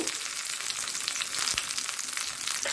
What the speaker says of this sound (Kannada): ಅದರೊಟ್ಟಿಗೆ ಈ ಒಂದು ಸಾಸಿವೆ ಕೊನೆಗೆ ಹಾಕೊಳ್ತಿದ್ದೇನೆ. ಇದು ಪಟ್ಟ ಹೇಳ್ತದೆ ಅದು.